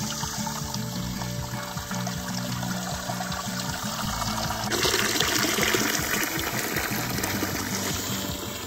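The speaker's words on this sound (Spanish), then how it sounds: "Ahora sí, a llenarla de agua limpiecita." Clean water pouring steadily into a tub, a continuous splashing gush that grows louder partway through, with a faint mechanical hum underneath.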